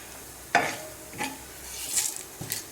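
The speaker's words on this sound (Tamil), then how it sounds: "இப்போ உளுந்தெல்லாம் நல்லா செவந்துருச்சு, சீரகம் பொரிஞ்சிருச்சு" Urad dal and cumin seeds fry in hot oil with dried red chillies for a Tamil ponnanganni keerai poriyal, giving a faint sizzle broken by a few sharp spluttering pops and stirring scrapes spaced out across the moment.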